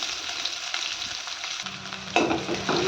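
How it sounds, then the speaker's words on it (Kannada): Chopped onion frying in hot oil with mustard seeds in a pan gives a steady, close sizzle, with brief scraping stirs near the end. "ಇವಾಗ ಈ ಥರ ಚೆನ್ನಾಗಿ ಫ್ರೈ ಮಾಡ್ಕೋಬೇಕು"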